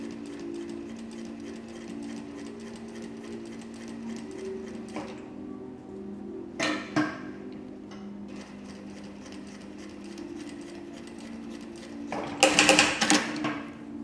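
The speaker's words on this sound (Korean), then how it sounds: "재봉틀을 켜고 시작을 해보도록 하겠습니다." A sewing machine hums and whirs steadily while stitching a two-way zipper, with brief mechanical clicks midway and a louder, rattling burst of rapid stitching near the end.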